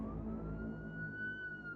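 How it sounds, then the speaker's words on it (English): A police siren wails steadily in the distance, its rising and falling tone sustained over a low rumble of traffic or ambient noise, with no voices present. "Police sirens were heard everywhere."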